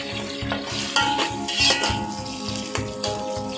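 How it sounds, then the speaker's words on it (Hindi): Two chopped, washed onions fry in half a cup of oil, sizzling steadily at close range while being stirred in a rhythmic pattern with a utensil, with no voices over the cooking. "अभी हम प्याज को भूनेंगे जब तक कि ये लाइट ब्राउन ना हो जाए।"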